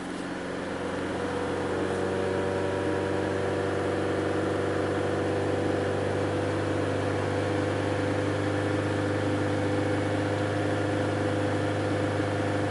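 Engine of a 2001 Saturn Coupe running rich, held at a steady elevated rev around 2,500 RPM, a constant loud hum with stable tonal drone and no pauses, heard close up.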